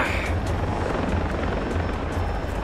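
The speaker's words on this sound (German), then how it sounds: "Jetzt also sogar Hubschrauber am Start, ist ja mega unfair." Helicopter in the video game Far Cry 3, a loud, continuous rotor thump chopping steadily over engine drone throughout, close and dominant with no talk.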